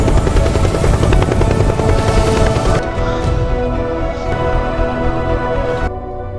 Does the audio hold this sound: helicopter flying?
yes